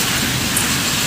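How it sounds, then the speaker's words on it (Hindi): Heavy monsoon rain pours steadily on a street in Ranchi, a dense, even hiss of drops spread across the whole short stretch, loud and close with no voices. "रिम झिम बारिश का मजा लेते हुए जा रहे हैं हम लोग"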